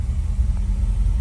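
A 1970 GMC truck engine idles after a hot start, giving a steady low rumble close by with no other sounds.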